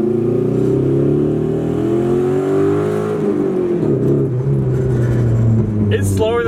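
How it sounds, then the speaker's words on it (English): A Mazda Miata using engine oil as coolant accelerates at full throttle in first gear, its engine note climbing steadily in loud, close revs before dropping at a shift near the end. "we're gonna do a quick first gear acceleration test. Let's go and hit it. Full throttle."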